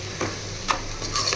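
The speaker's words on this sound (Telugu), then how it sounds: "సిమ్లో పెట్టి నేను బాగా ఫ్రై చేస్తానండి" Food frying on a low flame gives a steady gentle sizzle broken by several quick scraping stirs of a utensil against the pan, close by, with no voices.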